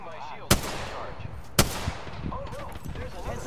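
Two sharp gunshots crack out in an Apex Legends match, about a second apart, loud and close, with faint game sounds and bits of player chatter around them.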